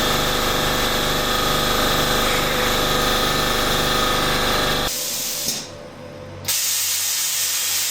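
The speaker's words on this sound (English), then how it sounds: "I gotta let my compressor catch up." A shop air compressor runs steadily with a loud, continuous motor drone and hiss, then cuts off abruptly partway through, leaving a quieter hiss before a lower hum returns.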